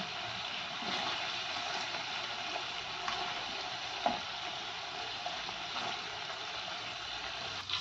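Chicken pieces for Afghani chicken fry in a covered pan, giving a soft, steady sizzle that stays faint and even throughout, with a few small pops and no talking.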